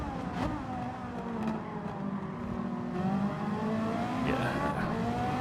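A Ferrari race car in Gran Turismo 7 working through a hairpin, its engine note dropping and then rising again as it accelerates out, with a faint squeal of tyres, steady and close.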